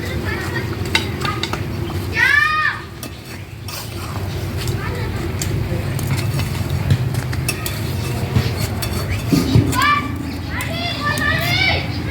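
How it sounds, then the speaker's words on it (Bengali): Mutton being stirred and fried in a pan for a Bengali-style goat curry: a constant sizzle with scraping stirs, partly masked by children chattering and calling out loudly nearby. "মটন খুব ভালোভাবে কষানো হয়ে গেছে"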